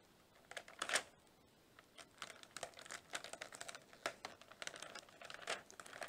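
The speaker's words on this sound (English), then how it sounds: "So I'm going to place quite a long piece of tape here." A long strip of adhesive tape is pulled off the roll and pressed around a handle, giving close crackling, sticky rips and crinkles in quick bursts.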